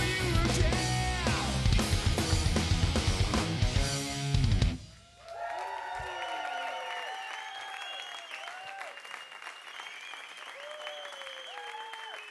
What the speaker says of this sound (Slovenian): Evo en aplavz za Piđota.